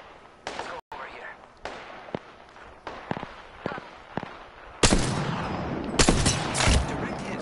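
Gunshots in Apex Legends ring out as separate sharp cracks, spaced irregularly at first, then heavier overlapping bursts of fire toward the end, fairly close and loud.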